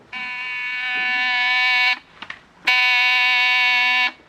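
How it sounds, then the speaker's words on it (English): Electric door buzzer in a home buzzes twice, loud and near: a long steady tone of about two seconds, a short gap with faint clicks, then a second long buzz. "There's the door buzzer."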